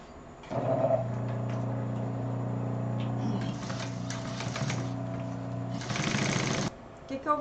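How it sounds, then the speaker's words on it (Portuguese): Sewing machine topstitching a medical bag in bursts of rapid, buzzing stitching close by, pausing briefly between runs, with a short stretch of rustling fabric handling. "E agora eu vou fazer o pesponto. Vou fazer o pesponto aqui."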